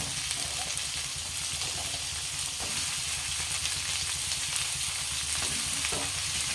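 Potatoes and onions fry in a pan for a hotel-style aloo bhindi palya, a dense, continuous sizzle with stirring scrapes mixed in, loud and close, with no voices.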